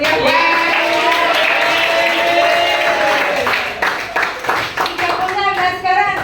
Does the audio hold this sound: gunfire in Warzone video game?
no